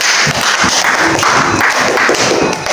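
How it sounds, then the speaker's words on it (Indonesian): An audience claps together indoors, loud close hand claps with some irregular thumping, sustained throughout the short stretch. "kita beri tepuk tangan untuk Hilya."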